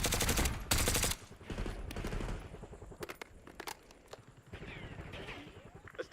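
Automatic weapon fire from a teammate in a multiplayer shooter video game, a loud burst at the start followed by scattered fainter shots and footsteps.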